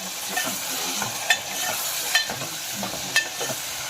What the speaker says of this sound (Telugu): ఆనియన్స్ ఇలా దోరగా వేగిన తర్వాత టొమాటో వేస్తున్నాం